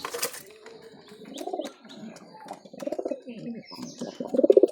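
A Madras pigeon coos in several deep, rolling phrases close by, with brief chirps mixed in and a louder, fuller coo at the end.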